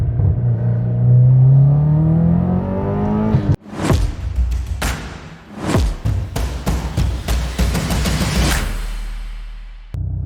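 Upgraded 2012 Subaru WRX STI engine revving up, the pitch climbing steadily before breaking into a run of sharp, loud blips and crackles, then settling back to a low idle; close and unaccompanied by talk.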